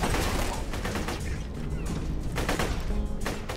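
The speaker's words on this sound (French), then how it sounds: "on a bien fait évoluer la mitraillette" A machine gun fires continuously in the video game Borderlands 2, a dense, loud rattle of rapid shots across the whole short stretch, with the game's battle noise layered in.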